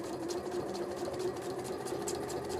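Domestic sewing machine running steadily through free-motion ruler quilting with a Blue Dahlia template, a continuous mid-pitched motor whir with a fine rapid needle patter, moderately quiet and uninterrupted.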